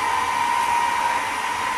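A homemade fan bar cooling a solar inverter runs with a steady, fairly loud whirring hum and airy rush, an even unbroken tone throughout with no talk.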